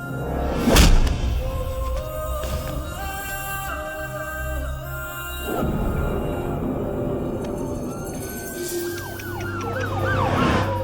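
A police vehicle siren wails as it arrives during an action movie scene, loud and continuous with rising and falling tones over engine and street noise, and no speech.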